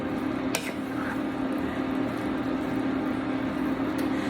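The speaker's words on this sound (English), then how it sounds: "And then you're just going to stir." A spoon stirs green beans in a pan of thickening flour sauce with soft squishing and a faint sizzle, steady and close. A sharp clink of utensil on pan sounds once near the start.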